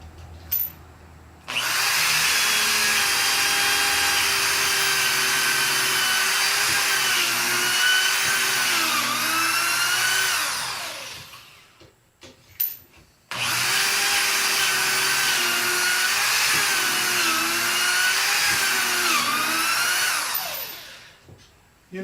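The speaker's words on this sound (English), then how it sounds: "A higher speed drill cuts a cleaner hole." Higher-speed drill boring pocket holes in 3/4 inch lumber, two long whining runs each lasting about eight to ten seconds, the pitch dipping under load near the end of each, loud and close with a brief pause between.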